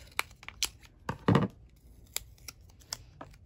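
A paper sticker snipped in half with scissors for a journal page: a few crisp, close snips and rustles, with one louder crinkling cut in the middle, no talk.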